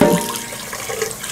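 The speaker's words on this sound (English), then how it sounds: "I'm gonna do a quick little rinse just so that this is nice and clean." Running tap water rinsing an Instant Pot inner pot in a sink, a loud steady rushing splash up close with no talking.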